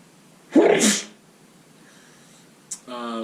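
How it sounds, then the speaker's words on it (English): A single loud, close sneeze bursts out and fades, followed by a brief click and then a faint voice beginning to speak. "we don't edit out sneezes here"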